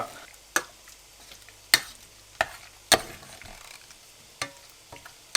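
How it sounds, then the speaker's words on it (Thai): A spatula scrapes and clacks against a pan in sharp, irregular strikes over a faint sizzle close by as chicken is stir-fried in a little water. "เราใส่ไก่ลงไป ลง ไปคั่ว"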